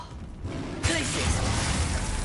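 A Glacius ice spell cast in Hogwarts Legacy bursts in at once as a loud, bright crackling rush, then holds steady as a dense icy hiss for the rest of the moment, close and full.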